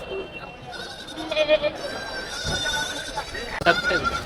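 Goats at a crowded rural livestock market ahead of a village festival in Ranipet, bleating repeatedly at mid distance amid a general crowd murmur and voices talking.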